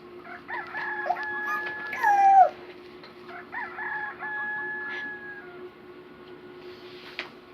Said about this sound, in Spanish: El gallo, mira el gallo.